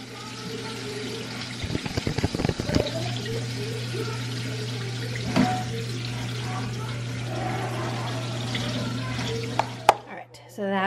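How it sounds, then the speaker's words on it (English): Cold tap water runs steadily into a kitchen sink as protein pasta is rinsed, a constant hiss broken by a few clattering knocks partway through and an abrupt cutoff at the end. "Our protein pasta, and just rinse it off in cold water."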